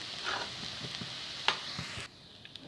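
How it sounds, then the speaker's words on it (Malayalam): Chicken sautés in a hot pan for a bread and egg snack, a close sizzle broken by scraping stirs and clicks, then dropping to a quieter fizz near the end. "ഇനി ഇതിലേക്ക് ചിക്കൻ്റെ ഇട്ടെടുക്കാം ഇട്ടുകൊടുത്ത് നല്ലോണം ഒന്ന് വഴറ്റി കൊടുക്കാം"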